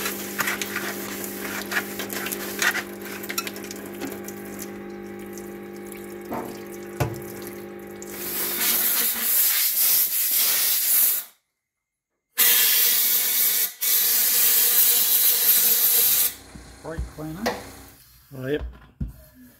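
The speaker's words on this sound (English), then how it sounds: "So brake cleaner" Brake cleaner sprayed in long hissing bursts onto a Suzuki DR650 motorcycle fork during a fork seal change; a steady loud hiss is broken by a short pause, with quieter handling noises before and after.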